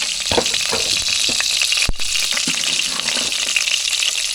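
Small onions and garlic sauté in hot oil in a pan for a mutton curry, a loud steady sizzle with occasional scraping and clanking as the mixture is stirred, close up and without talk.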